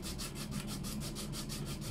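An acoustic guitar saddle is sanded by hand, a steady back-and-forth scraping rub in about a dozen even strokes, close and fairly quiet with no voices.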